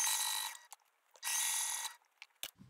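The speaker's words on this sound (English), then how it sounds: "And I'm just sewing this to keep the two layers together." A sewing machine stitches two fabric layers of a lined scrub cap together in two short bursts of whirring, with quiet clicks between, close up and without talk.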